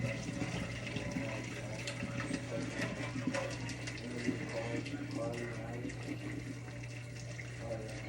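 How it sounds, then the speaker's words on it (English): Cooked pasta water pours out into a kitchen sink in a steady, hissing gush with a constant low hum beneath it, continuous for several seconds at moderate level. "Now, gonna drain the water."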